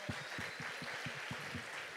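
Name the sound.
applause in church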